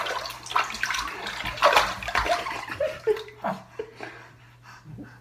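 A baby splashes water in a bath, with sloshing and splatter bursts close by, irregular and lively, then quieter drips and small splashes toward the end.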